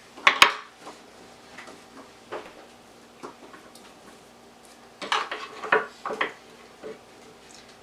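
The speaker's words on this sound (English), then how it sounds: "I'm just going to keep cutting off the ends and then cutting them in half" A knife chops through asparagus spears on a board, trimming off the ends, in sparse irregular clicks and taps with a denser burst of cuts near the end, fairly close and with no talking.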